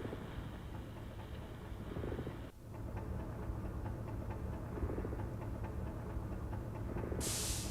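Engine room ambience in the video game Severed Chains: a steady low mechanical hum and hiss of machinery droning continuously, with a brief dip and a faint rhythmic ticking underneath, and no voices.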